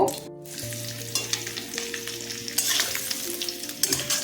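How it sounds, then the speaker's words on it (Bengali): Dried Bombay duck (lote shutki) fries in mustard oil in a kadai, giving a loud, continuous close sizzle with occasional stirring clatter and sharp crackles. "মাছগুলো আমি ভেজে নেব"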